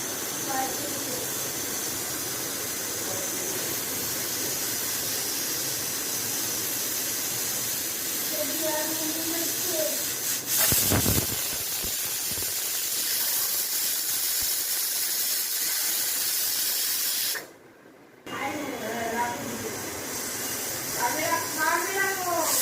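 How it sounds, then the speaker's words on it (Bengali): A pressure cooker on a stove hisses steam steadily, with a sharp whistle burst midway, a brief pause, then more hissing and a sputtering release near the end. "in the mean time pressure কুকারে হুইসেল আসছে দুটো হুইসেল পড়ুক"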